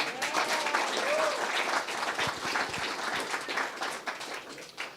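An audience at a church service applauds in honor of a reverend, a loud, sustained clatter of many hands with a few faint voices and a brief tonal whistle mixed in, fading slightly at the close.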